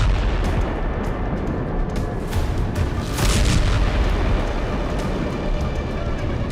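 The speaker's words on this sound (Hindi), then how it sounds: "हवा से बम गिराया गया और जोरदार धमाके के साथ" A massive, roaring blast from a bomb dropped from the air, rumbling on continuously, loud and dense, with a long thundering tail.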